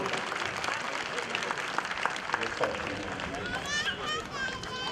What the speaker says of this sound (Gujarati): એક વખત જોરદાર તાળીઓથી અભિવાદન કરવું છે અમારે સૌનું